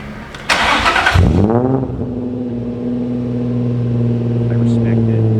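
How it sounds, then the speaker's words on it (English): An Infiniti G35 engine cold-starts with a short starter crank, catches with a loud rev flare, then settles into a steady high idle that continues to the end. "Can we get a cold start for the boys?"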